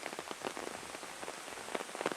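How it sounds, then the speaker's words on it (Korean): Heavy monsoon-season rain drums on an umbrella held overhead on a forest walk, a dense, steady patter of drops with brief louder spatters, fairly quiet and with no voices. "이렇게 우산을 쓰고 비가 엄청 많이 내립니다"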